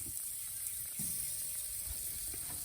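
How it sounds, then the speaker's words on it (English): Constant crackling sizzle of pork chops cooking on a charcoal grill, steady hiss with small pops, close up and without talking. "Listen to that sizzle."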